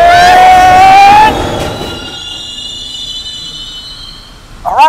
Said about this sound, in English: The train for Heather's home has now arrived.